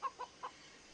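Chickens cluck in the Far Cry 3 video game, three short clucks in quick succession near the start, then quiet background.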